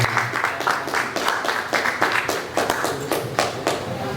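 Clapping from a small audience at a village youth organisation chair candidates' debate, fairly close, with distinct individual claps in an uneven rhythm.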